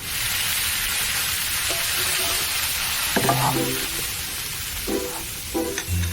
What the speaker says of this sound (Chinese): 你这鱼油温太高了，这鱼肉被你煎干了。